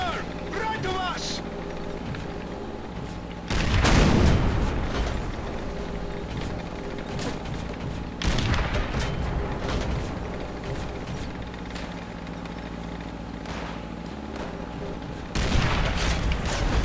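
Booming artillery and gunfire tearing down a tower in Call of Duty: World at War, three heavy blasts spaced several seconds apart over a constant rumbling battlefield din.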